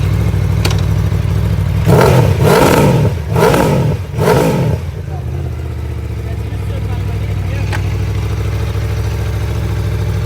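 A 2020 Aprilia Tuono V4 1100 Factory motorcycle engine with an Akrapovic slip-on exhaust idles steadily, then revs hard above 5,500 rpm in three or four quick bursts before settling back to a low idle.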